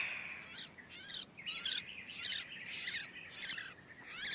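A sooty-headed bulbul parent gives repeated high chirping calls in short bursts, fairly faint and alone against a quiet outdoor background.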